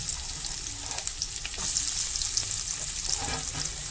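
Onions fry in a pan for egg fried rice, producing a bright, dense sizzle that swells louder partway through, heard up close without any speech.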